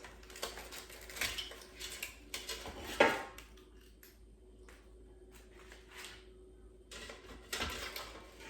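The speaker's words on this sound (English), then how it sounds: "Now I'm going to transfer it from the air fryer to the plate." An air-fried whole fish is lifted from the air fryer onto a plate: soft, quiet clinks of utensil and dish, with one sharper clatter midway, in a hushed room with no talking.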